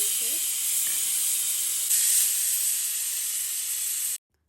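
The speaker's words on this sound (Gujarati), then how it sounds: "આપણે ભૂંગળા છે એ તળી અને તૈયાર કરી લઈએ" Steady loud hiss of bhungla frying in hot oil, continuous and close, with a brief surge midway before it cuts off.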